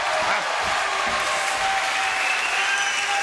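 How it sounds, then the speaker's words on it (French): Studio audience applauding a guest, Étienne Chicot, on a French television variety show: steady, dense clapping throughout at an even level, with no voices over it. "Mesdames, messieurs, quelques applaudissements, s'il vous plaît, pour Étienne Chicot"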